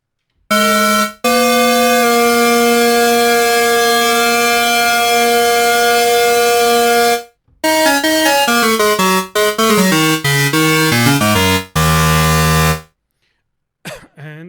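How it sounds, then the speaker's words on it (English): SynthMaster 3 synthesizer using a comb filter makes breathy, flute-like tones: a long held note followed by a quick run of shifting pitches, then a lower sustained note, loud and close. "this is how you can create basically some flute-like sounds using the comp filter"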